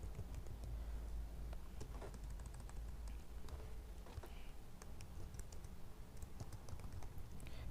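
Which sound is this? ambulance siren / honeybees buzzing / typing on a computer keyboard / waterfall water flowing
typing on a computer keyboard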